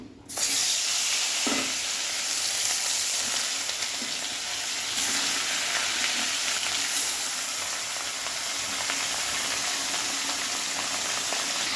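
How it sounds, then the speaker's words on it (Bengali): Pieces of fish hit hot oil in a pan with an abrupt onset, then a continuous close-up sizzle and crackle runs on steadily with a few faint clatters, and no one speaks. "তেলটা গরম হয়ে গেছে মাছগুলো দিয়ে দেবো"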